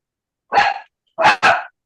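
A person imitates a dog barking during a second-year class: one bark, a short pause, then two quick barks close together, loud and near, with no other talk around them.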